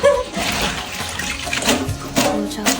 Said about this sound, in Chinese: 韭菜昨天晚上就摘好了，给它洗一下。